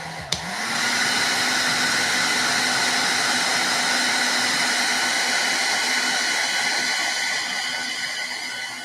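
A blow dryer aimed at a NECA action figure clicks on and settles into a loud, steady whirring rush of air that continues unbroken, with no talk.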